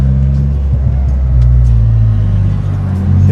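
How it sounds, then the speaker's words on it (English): A turbocharged Opel Bertone Turbo driven close by with a loud, steady engine drone and rumble, its pitch shifting slightly as it pulls, with brief faint turbo flutter. "I really hope you can hear the shoot-to noises, the turbo flutter"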